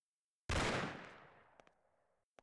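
A single loud gunshot in the video game Mafia bursts suddenly and fades out in a long echoing tail, followed by a few faint clicks.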